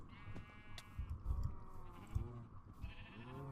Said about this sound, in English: A bunch of sheep.